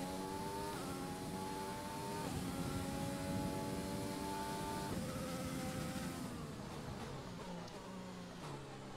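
A racing car engine accelerating hard during a video game time trial, revs climbing repeatedly with quick gear shifts, a steady, loud, close whine with no talking.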